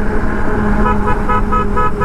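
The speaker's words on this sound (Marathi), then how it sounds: "नुसतं हॉर्न वाजवायचे" A horn beeps in a quick series of short toots over steady road traffic noise, heard from a motorcycle ride with the rumble of vehicles close around.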